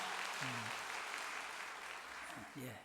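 Gathering at a unification lecture event applauds honored elders, a steady, faint wash of clapping with a voice speaking briefly over it.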